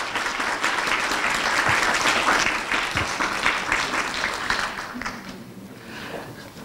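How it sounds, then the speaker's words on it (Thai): An audience at a Thai book launch and panel discussion applauds as five panelists come on stage: dense, loud clapping that swells, holds, then thins out and fades near the end. "ปรบมือทั้ง5ท่าน"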